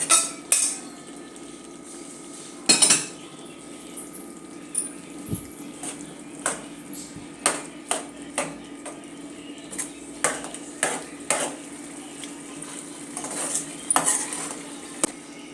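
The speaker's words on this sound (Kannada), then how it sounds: "ಬೇಯಿಸ್ಕೊಂಡಿರೋ ಅಂಥ ಕಡಲೆಬೇಳೆನ ಹಾಕ್ತಾಯಿದ್ದೀನಿ." Cooked chana dal goes into a pot of ridge gourd kootu, with a sharp metal clank of the utensil against the pot at the start, followed by a steady series of light clinks and scraping stirs, close and without talk.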